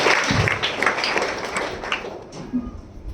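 A church congregation claps loudly and the applause thins out gradually as it goes.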